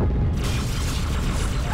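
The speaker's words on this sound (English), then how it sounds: "Grenade" A grenade blast in the video game Halo 2, a loud close boom with rumbling debris filling the short moment.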